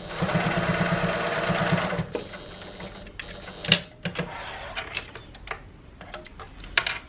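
A sewing machine runs a rapid, even stitching burr along a half-inch seam on a tote bag for about two seconds. It stops, and sharp clicks and handling taps follow.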